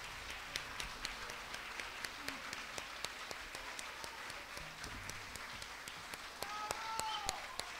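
A standing ovation for a band and its singers and musicians at a tribute celebration, heard as faint, steady distant applause with sharp periodic clicks over background murmur.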